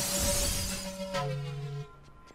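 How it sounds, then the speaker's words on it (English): A crystal shatters in the LostWinds video game: a bright, glassy burst of breaking with ringing tonal tails, followed by lingering chime-like tones that fade within about two seconds, alone without talk. "So yes, we can now shatter crystals and go through doors."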